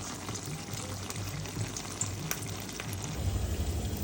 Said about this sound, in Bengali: এই যে আমি একটু ঝোলটা কষাবো